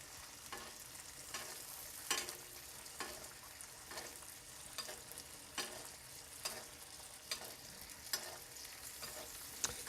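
Ribeye steak sizzling in a pan, a continuous close crackling fry with periodic stronger spits and brief stirring or shifting sounds, no talk.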